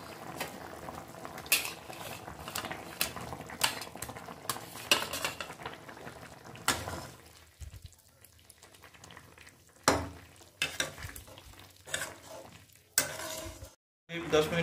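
Matar paneer curry of peas and fried paneer cooked without onion or garlic bubbles quietly in a pan, with a low simmer and sizzle broken by scraping and clinking spoon strokes against the pan.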